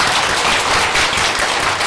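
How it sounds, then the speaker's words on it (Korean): Applause from the audience at a Buddhist ritual lecture in Daegu, honoring the director: a dense, steady wash of many hands clapping close and loud, with no voices over it. "방금 여기까지 영상을 해주신 우리 관장님 큰 박수 부탁드립니다"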